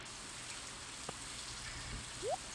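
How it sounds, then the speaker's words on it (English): Steady rain falling in the farming video game Stardew Valley, a soft, even hiss of drops throughout, with a faint click and a brief rising tone near the end. "And it's raining."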